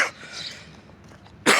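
A single sharp cough bursts out at the end after a quiet stretch, close and loud, from someone walking outdoors in a white T-shirt and trousers while down with a cold.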